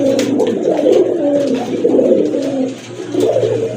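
A male Gorra pigeon coos close by in repeated low, throaty rolling phrases with a brief pause between bouts, no talking.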